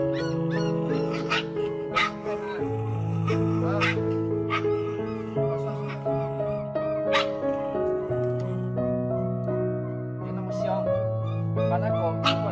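Three hungry, cold puppies whimper and cry in long, overlapping high-pitched whines and yelps that continue throughout, fairly close.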